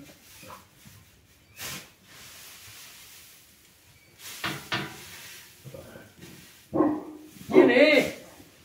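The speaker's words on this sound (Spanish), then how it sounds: "Está el perro ladrándome." A dog barks in a home setting, a few sharp, moderately close barks scattered among rustling and handling noise, with talking.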